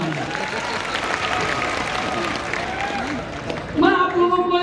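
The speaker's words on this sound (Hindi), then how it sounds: "तो फिर एक बार जोरदार ताली बजा दो" An audience at the Shravasti Mahotsav 2024 kavi sammelan claps loudly and continuously, a dense crowd applause lasting several seconds before a voice speaks over it at the end.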